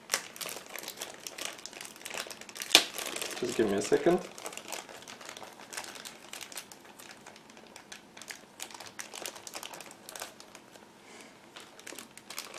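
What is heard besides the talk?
crinkling plastic bag holding model kit turret part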